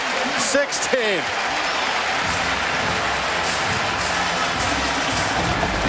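A homecoming crowd roars in a Charlottesville football stadium after Virginia retakes a 17-16 lead over UConn in 2007. Dense, sustained cheering and applause fill the space, with a brief voice near the start.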